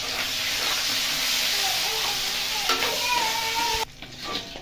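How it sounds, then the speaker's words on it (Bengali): Onion and capsicum stir-fry in hot oil in a kadai, giving a loud, steady sizzle with scraping stirs throughout, until the frying drops away sharply near the end. "ওইতে আমি দিয়ে দিলাম পেঁয়াজ আর ক্যাপসিকাম। এটা বেশি নরম করবো না, 2 মিনিটে আমি এটাকে নামিয়ে দেবো। অল্প নাড়াচাড়া করে নামিয়ে নেবো।"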